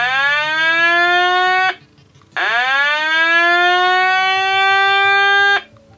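Two long rising electronic whoops from a 1985 G.I. Joe U.S.S. Flagg aircraft carrier toy's red alert siren, loud and close, each sweeping upward then holding, with a short pause between them like an alarm alert.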